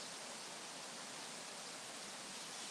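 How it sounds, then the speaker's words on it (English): A waterfall on the far side of a slippery bank on a cold winter walk, heard as a steady, even broadband rush of falling water that stays faint and continuous with no voices over it. "Right, I've got the waterfall on the other side."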